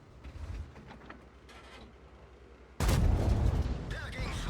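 A tank's main gun fires a high-explosive shell in the Tiger-Maus armored vehicle game, a single loud blast bursting in abruptly and ringing on with heavy rumble after a quieter stretch of engine hum.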